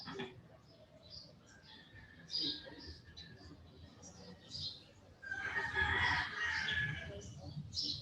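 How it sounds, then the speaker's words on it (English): Roosters crow repeatedly around Lake Chapala, several calls at varying distances with one loud, close crow near the end over quiet outdoor background. "And the roosters. Don't forget those."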